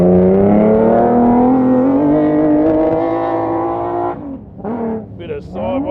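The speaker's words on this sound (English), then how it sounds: "Bit of sideways acceleration there from Ali Howes." A Nissan 3.5 litre naturally aspirated Jimco racing buggy accelerates sideways at an off-road race. Its loud, close engine note climbs steadily, then breaks into sharp rev bursts as it hooks up.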